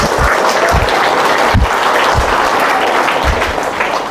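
A congregation at a church service in Sorsogon claps loudly, a thick, continuous wave of applause close by with occasional low thumps under the clapping.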